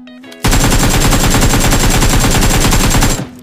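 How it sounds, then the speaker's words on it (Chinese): Loud sustained automatic gunfire in a shooter video game, a rapid unbroken burst of shots lasting about three seconds before cutting off, with no talk. "刚才我听见这边有枪声"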